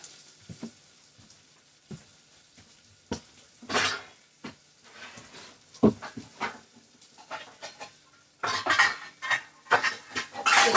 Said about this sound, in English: We will need a lid for this pot. So I'll go ahead and get that.